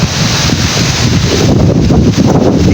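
Steady, loud shoreline wind buffeting the microphone with a constant low rumble and broad hiss, no voices, continuous throughout.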